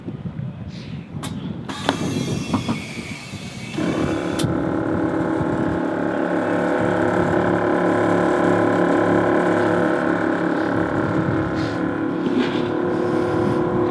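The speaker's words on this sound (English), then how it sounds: "he'll just demo how noisy a standard set of compressors are" Two Viair 444 air suspension compressors on a van inflating, a loud steady mechanical drone with a pulsing motor hum that kicks in after a few seconds of quieter noise and runs continuously, close up.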